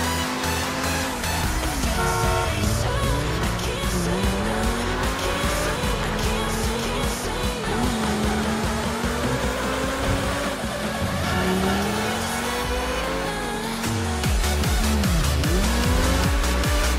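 A car driven fast in a driving game, engine roaring steadily with repeated tire squeals and skids throughout, loud and continuous with no talking.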